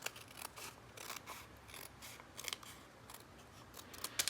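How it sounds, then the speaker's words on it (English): Scissors snip through a paper junk journal tag in a quick series of crisp, close cuts, separated by short pauses, with no talking. "And we'll just take the scissors"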